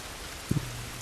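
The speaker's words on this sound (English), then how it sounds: "Rain is good for stealth, both for zombos and for the humans." Rain falls with a soft, constant hiss in The Last of Us Remastered, broken by a single brief low thump partway through.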